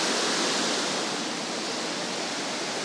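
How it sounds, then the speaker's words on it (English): Strong, fast-flowing waterfall roaring steadily and loudly up close, a dense unbroken wash of rushing water with no voices. "The waterfall looks pretty strong. The water is flowing very fast."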